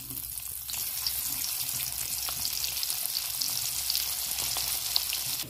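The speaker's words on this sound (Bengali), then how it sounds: "এবার করলাগুলো একটা একটা করে দিয়ে ভালো করে ভেজে নেব" Bitter gourd slices fry in hot oil in a home kitchen, giving a steady, bright sizzle and crackle that runs unbroken and close, with no talking over it.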